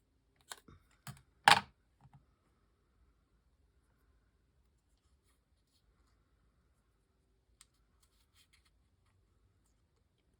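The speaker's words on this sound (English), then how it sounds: "cut a little slit in the top" Scissors cutting a small slit in the top of a paper craft, a few quick crisp snips bunched together near the start, followed by near silence with a faint stray click or two and no talking.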